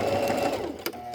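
A short close burst of a sewing machine running a French seam, giving a fast rhythmic mechanical hum that stops abruptly near the end, with no talk.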